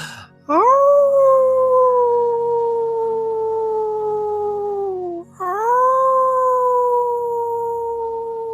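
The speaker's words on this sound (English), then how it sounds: "allowing yourself to make any noises and inviting you to even howl in this moment" A wolf lets out two long, loud, wavering howls, each rising quickly and then holding a slowly falling pitch. A brief break separates them, and no voices are heard.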